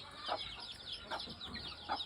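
A straight-bred brown red gamefowl pullet, free range, gives three soft, separate clucks spaced about a second apart, fairly faint and alone.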